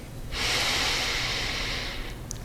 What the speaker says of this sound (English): And normal breathing.